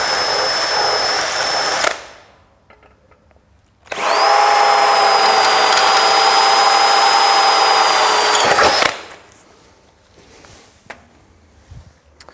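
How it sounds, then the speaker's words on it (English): A power drill bores holes in a steel trunking end cap: a short loud burst of drilling, a pause, then a longer sustained high-pitched whine of the bit cutting metal, followed by quieter handling noise. "I'm going to drill at these 2 points and pot rivet it."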